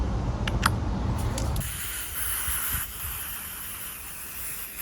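Expanding foam gun cleaner sprays from a can in a loud, continuous hiss lasting several seconds, preceded by a few short clicks and rustles while plasterboard wall insulation goes up.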